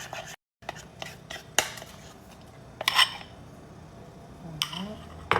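A spoon stirs and clinks against a dish while banana and coconut layers are mixed, giving sparse scrapes and a few sharp taps spread over several seconds, close and fairly quiet.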